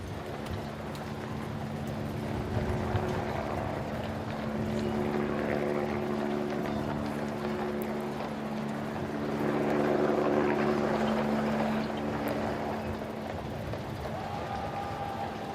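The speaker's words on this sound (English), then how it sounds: "with that famous salute from the drum horses Apollo and Juno." Household Cavalry horses clip-clop along a ceremonial parade route at Trooping the Colour, hooves blending into a broad outdoor wash of crowd and ambient noise with a faint engine-like drone beneath.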